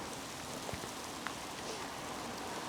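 A heavy rain downpour falls on a disused railway line, a steady soft hiss with scattered individual drops and patters standing out, fairly faint and without talking.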